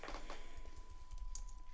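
Text being typed on a computer keyboard, faint soft key clicks in a quick irregular patter, close by in a quiet room with a steady faint electronic tone.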